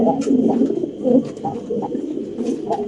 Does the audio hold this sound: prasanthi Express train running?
no